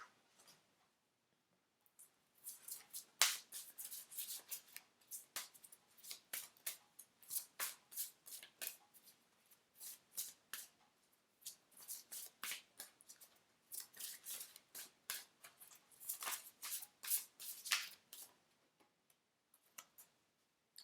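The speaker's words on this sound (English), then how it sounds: "They're very loud, these unicorns, when I shuffle them, aren't they?" Oracle cards with a unicorn design being shuffled by hand, a quiet room-level series of crisp flicking, riffling clicks in rapid bursts with short pauses between, no talking.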